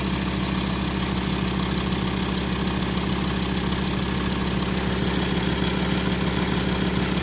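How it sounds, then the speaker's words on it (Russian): A Volkswagen Touareg 2.5 TDI diesel engine idles steadily and loudly, a continuous low rumble with a faint rattling knock running through it, no voices. "Вот мотор работает."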